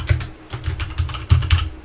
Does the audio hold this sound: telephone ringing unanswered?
no